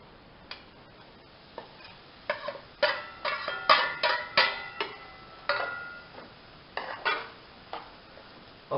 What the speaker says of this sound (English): we will roast our semolina in this ghee till it turns brown